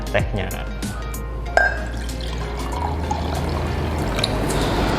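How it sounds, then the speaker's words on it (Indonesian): Tea being poured over ice in a glass makes a steady liquid trickle and splash with a few clinks, running under a woman's continuous speech. "Nah, kita akan tuangkan tehnya."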